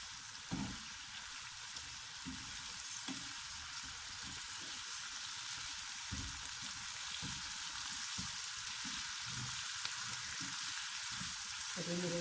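Green chillies frying in a hot pan with spices: a steady, close crackling sizzle with bursts of popping and occasional stirring scrapes, continuous and with no talking.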